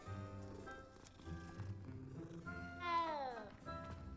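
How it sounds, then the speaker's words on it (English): A cat in a Harry Potter video game gives a couple of short, close meows when petted, with one rising, drawn-out mew standing out clearly over soft background game sound. "Always pet the kitty"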